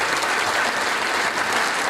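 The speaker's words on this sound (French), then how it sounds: "Je vous demande de les applaudir." Audience applause fills a hall at a regional business awards ceremony in Franche-Comté, steady dense clapping from a large crowd lasting throughout.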